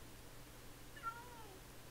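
A pet cat in Minecraft gives a single short, faint meow midway through, over a quiet hissy background with no talking.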